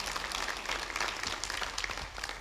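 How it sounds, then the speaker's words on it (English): A church congregation applauds at a July 4 service, steady dense clapping filling the room for a couple of seconds at moderate level. "They clap better for Josh than they did when Caleb introduced me"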